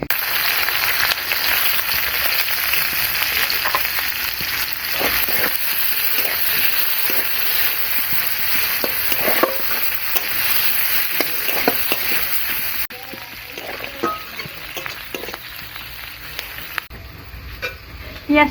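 Chopped onion sizzling in hot oil with a dried red chili and a little cumin, after potol and potato were fried, for a Bengali fish-roe chochori; a steady crackling fry throughout, close and even.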